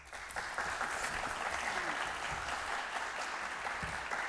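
An audience applauds steadily and fairly loudly after a presentation at a community housing and investment event, a dense even wash of clapping that holds for several seconds without a break.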